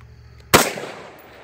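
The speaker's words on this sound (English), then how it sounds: "Oh, a shot." A single sharp gunshot cracks out loud and sudden, then trails off in a rolling outdoor echo over about a second, with quiet background before it.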